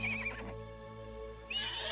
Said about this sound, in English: Oh wow, the horse is loud.